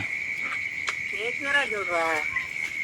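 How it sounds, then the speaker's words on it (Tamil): Frogs croak in short rhythmic pulses against a constant high insect trill, with a voice briefly audible in the middle. "இந்த தவளை சத்தம் தான் ரொம்ப கேட்குது."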